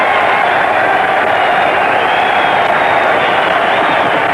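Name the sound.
boxing crowd cheering as fighter is knocked down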